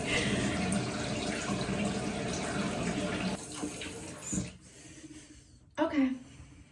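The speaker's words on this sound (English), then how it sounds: "I'm gonna go ahead and wash all this off my face" Tap water running steadily into a bathroom sink while someone washes off a face mask, a close rushing stream that stops near the end, followed by brief splashing and handling noises.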